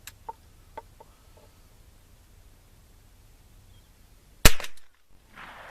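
A single sharp gunshot from a Rossi Match Pair firearm cracks out loudly near the end, preceded by a few faint clicks and quiet background noise.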